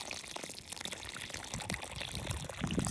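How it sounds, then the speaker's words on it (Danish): Water is poured out of a large container, a steady splashing rush with small gurgles, close and fairly loud throughout. "Så hælder jeg lige vand."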